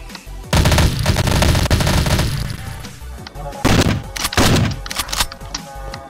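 A SCAR rifle fired in a modded shooter game, loud rapid automatic bursts of gunfire with a few brief breaks between strings of shots.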